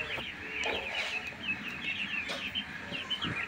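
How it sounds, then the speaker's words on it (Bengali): Seventeen-day-old ducklings peep and chirp in rapid, overlapping high calls, close and continuous over a soft outdoor background. "তো আমার এই হাঁসের বাচ্চাগুলো যে দেখতেছেন"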